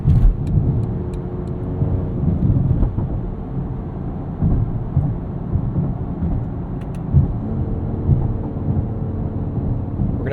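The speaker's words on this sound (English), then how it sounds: "This car sounds like a Supra and a Focus RS had a baby." A 2022 Mercedes GLE 53 AMG driving at night, heard from inside the cabin as a steady, low engine and road drone with a continuous rumble and no talking.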